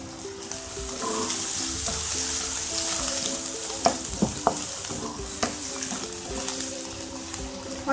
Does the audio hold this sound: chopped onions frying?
yes